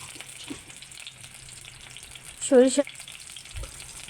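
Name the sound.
boiled beef tempered and frying in mustard oil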